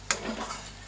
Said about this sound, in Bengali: হলুদের পর একটু দেব লবণ, একটু কাশ্মীরের লঙ্কার গুঁড়ো দিয়ে এখন মশলাটাকে ভালোভাবে কষিয়ে নেব।